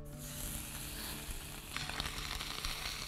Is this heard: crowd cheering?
no